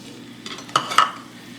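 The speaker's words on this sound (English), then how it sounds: "I'm just going to stir that in together. We're just making a roux." Butter and flour roux stirred in a pot, a couple of brief close scrapes of a utensil against the pan over a faint low background.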